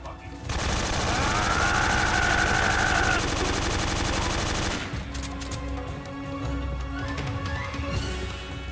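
Sustained light machine gun fire in Metal Gear Solid 3, a loud dense continuous burst lasting several seconds before cutting to quieter game sounds.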